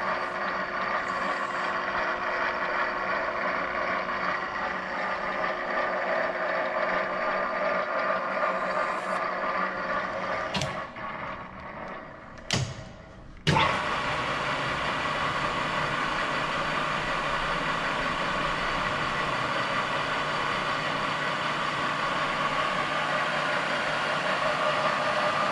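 Wilton Strand 24-inch sliding head geared drill running with a steady mechanical hum and whine, briefly interrupted by a few sharp clunks of a gear or speed change before resuming at a constant drone.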